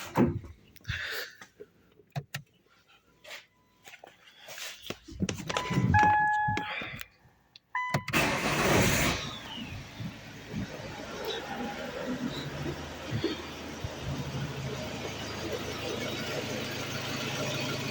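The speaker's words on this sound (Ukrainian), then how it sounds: "Запускаємо двигун." A Ford Kuga engine cranks and catches, then settles into a steady idle, with clicks and a jingle of keys beforehand.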